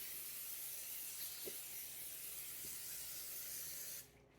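Cooking spray hisses from a can onto a foil-lined sheet pan in one continuous, fairly faint airy spray lasting about four seconds before it stops.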